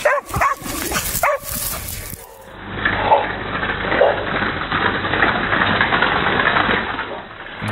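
A dog barks while it chases a running herd of cows, with a few sharp barks rising over steady, rumbling outdoor noise and a low engine-like drone.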